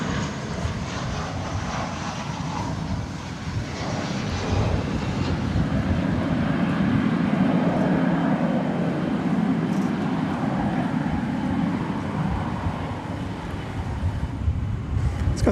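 Sun Country airliner in newer livery arriving at DFW Airport from Minneapolis–St. Paul, a steady broad engine roar held at even loudness throughout at moderate distance, no talk.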